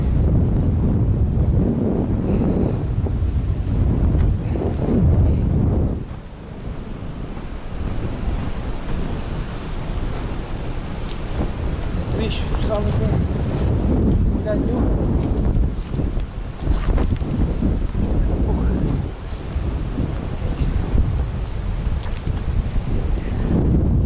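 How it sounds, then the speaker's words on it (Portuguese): Steady seaside wind on the Azores, Portugal, buffets the microphone in a continuous low roar, with gusts rising and falling throughout and a voice talking over it now and then. "Está um pouco de vento aqui."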